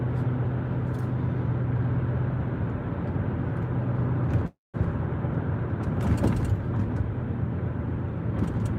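Car engine and road noise heard from inside a moving car on a morning drive, a steady low drone with a brief dropout in the middle and faint ticks, no talk.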